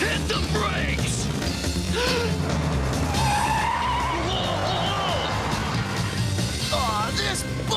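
A cartoon car brakes hard, its tires squealing and skidding in long screeches over a loud, busy action soundtrack, with voices shouting at the same time.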